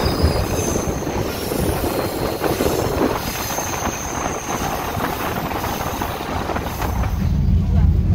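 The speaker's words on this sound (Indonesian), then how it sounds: "Kereta api Pangrango sudah diberangkatkan dari stasiun Maseng." Pangrango passenger train running on rails between Maseng and Cigombong stations on the Bogor–Sukabumi line, heard from aboard: a loud, constant roar of wheels and carriage rumble with high metallic squealing overhead.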